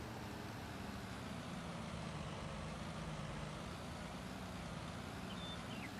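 Truck backing up a trailer in Farming Simulator 19, a steady low engine drone with constant rumble and faint high tonal chirps near the end, continuous and fairly loud throughout with no talking.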